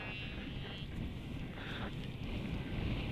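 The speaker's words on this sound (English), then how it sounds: "No, it's definitely got windier." Steady wind gusting across an open links golf course, a broad continuous rush buffeting the microphone throughout with no break, loud and close.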